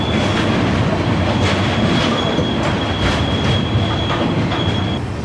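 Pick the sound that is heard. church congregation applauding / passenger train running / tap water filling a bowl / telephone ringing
passenger train running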